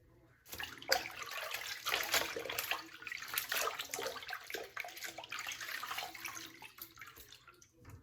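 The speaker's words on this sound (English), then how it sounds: "get some hot water in my sink." Hot water runs from a tap into a bathroom sink before a straight razor shave, a steady close rushing splash that starts after a brief quiet moment and keeps flowing for several seconds.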